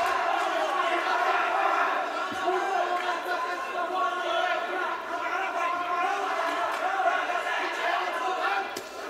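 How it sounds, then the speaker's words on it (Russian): Fans roar and chant in a sustained, droning wave at an ACA YE 17 bout between Ramazan Yuzyasharov and Abdulkappar Kaparov, a large arena crowd heard throughout beneath a commentator's talk. "И на удивление его болельщики громче."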